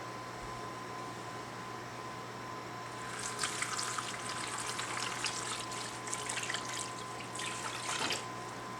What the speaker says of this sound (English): And then we'll add our water.